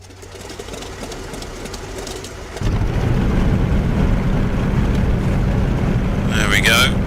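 A Grumman F6F-5 Hellcat's piston engine in Microsoft Flight Simulator starts with a low idle hum, then catches at once and swells into a loud, steady, close-up rumble that holds to the end.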